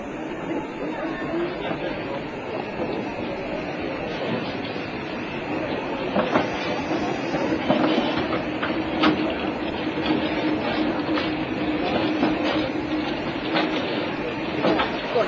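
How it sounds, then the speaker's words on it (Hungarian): A small steam tram train rolls into its terminus by a harbour, with steady rumbling, squealing wheels and rhythmic clicks of rail joints, moderately loud and close. "A vonat 8 perces zögykölődés után befut a végállomásra."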